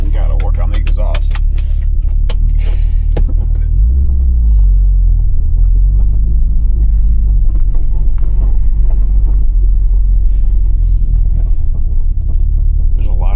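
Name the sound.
Audi S6 Avant engine running with exhaust leaks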